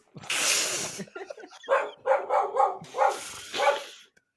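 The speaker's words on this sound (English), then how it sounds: "turning her head in different directions and barking at different windows" A dog indoors barks at the windows, a series of sharp, fairly close barks in quick succession after a breathy opening sound.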